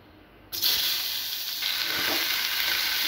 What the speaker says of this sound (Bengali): তো এটাকে এখন একদম ফুল দমে আমি ভেজে নেব